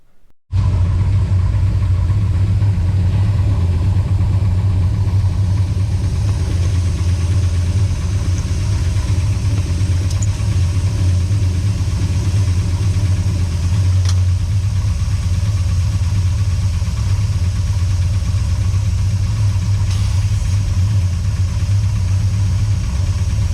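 A 1968 Dodge Charger engine idling with the brake booster vacuum line disconnected, a steady deep rumbling idle running continuously and loud for over twenty seconds with no talk.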